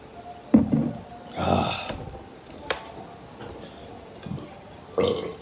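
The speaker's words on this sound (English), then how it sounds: "Oh, it's a burp." A single short, throaty burp breaks out near the start, followed by wet mouth noises, breaths and faint chewing sounds.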